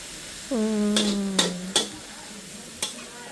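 Water spinach (morning glory) is stir-fried in a pan, a soft sizzle with a few sharp metallic scrapes and clacks of the spatula against the pan.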